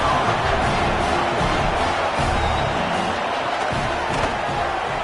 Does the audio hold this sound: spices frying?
no